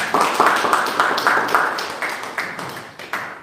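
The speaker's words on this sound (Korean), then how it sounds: "박수로 모시도록 하겠습니다." Audience applause at an academic filial piety conference welcomes the next presenter: a short run of rhythmic, fairly close group clapping that gradually fades.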